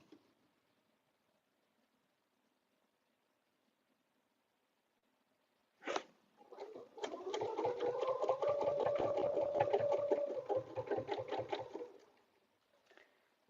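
A sewing machine stitches back over a paper-pieced butterfly quilting project for a dresser scarf. It starts with a sharp click, then runs with a steady whirring hum and rhythmic clunks for about six seconds before stopping, close and moderately loud.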